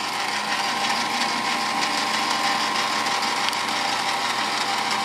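A South Bend milling machine's power feed drive runs with a steady motor whine and gear hum, continuous and close without pauses or talk.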